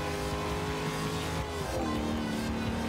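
Car in the Forza Horizon 2 racing game, its engine droning steadily with a tonal whine that shifts pitch midway, continuous and loud with no talking over it.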